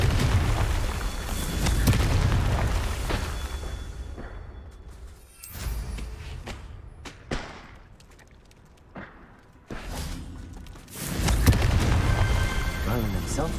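Confringo fire spell blasts in the video game Hogwarts Legacy, several loud booming explosions with rumbling tails that swell, fade and return over the span, layered with game effects.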